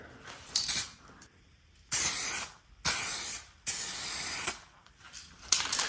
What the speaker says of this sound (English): We'll do the clear coat.